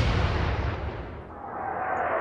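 Naval gun fires in the World War II video game Atlantic Fleet, one loud booming shot that rolls off and fades over about two seconds, with no talk.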